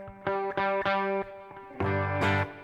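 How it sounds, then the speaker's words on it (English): An electric guitar through an amp's crunch channel, crunchy, mildly distorted tone, plays a handful of ringing notes and chords, each held briefly before the next, with no talking. "The crunch is like a little bit of distortion."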